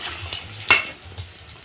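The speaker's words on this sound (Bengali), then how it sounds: "এইভাবে উল্টোপাল্টা করে আমি পিঠেগুলো ভেজে নেব" Vegetable pitha frying in hot oil, a soft bubbling sizzle with a few sharp crackles and spits over about two seconds, close and fairly quiet, with no voices.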